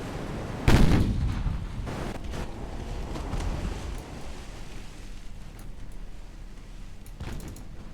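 Big naval guns firing aboard a ship in Ultimate Admiral, one loud booming blast followed by rumbling echoes and a few fainter distant reports over steady wind-like noise.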